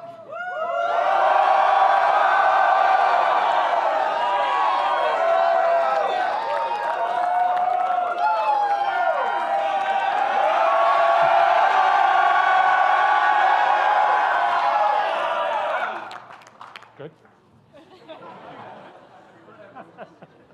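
A graduation commencement crowd erupts in loud, sustained cheering, whooping and shouting for about fifteen seconds, then quickly dies down to scattered voices and murmurs.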